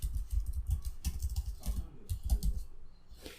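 Rapid typing on a computer keyboard, a close, steady stream of light key clicks in irregular bursts, running alone with no voices.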